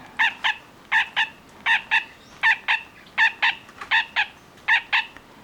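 Baby lineolated parakeets, 17 to 18 days old, being hand fed, giving repeated paired high chirps in a regular rhythm, close and fairly loud over quiet background.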